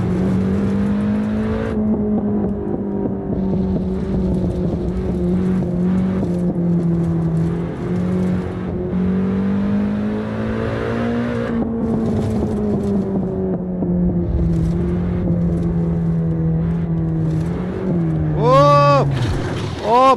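Car engine in a racing video game played on a Thrustmaster TH8A setup, revving steadily while drifting, a sustained loud drone with shifting pitch for about twenty seconds, with a sharp rise and whine near the end.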